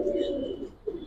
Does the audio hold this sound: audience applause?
no